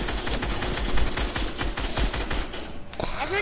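Rapid, dense video-game gunfire rattles on almost without a break, a steady loud burst of many shots with sharp repeated cracks across the whole stretch.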